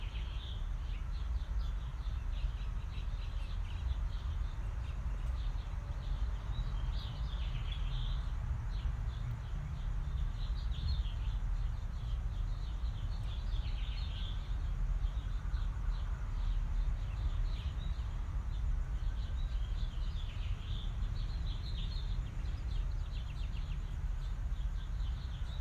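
Birds sing faintly in a backyard, scattered chirps and twitters recurring through a steady low background rumble, distant and soft throughout.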